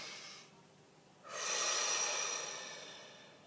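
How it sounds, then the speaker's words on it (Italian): A single deep, audible inhalation swells up close and then slowly trails off, heard alone with no talking. "facciamo il nostro respiro profondo"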